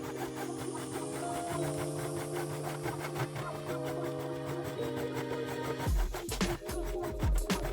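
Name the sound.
overlocker sewing the edge of denim jeans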